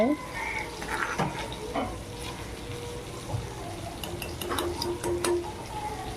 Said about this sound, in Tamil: மீன் வறுவல் போயிட்டு இருக்குது